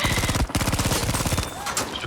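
Rapid automatic gunfire from a shooter video game, a steady stream of fast, evenly spaced shots for about a second and a half, then a short tail of fading echo and scattered noise.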